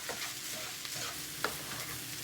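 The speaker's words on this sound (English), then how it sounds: "Now it's all about just frying it up." Continuous hissing sizzle of Chinese fried rice frying in a pan, with soft stirring scrapes and an occasional small pop, steady and close.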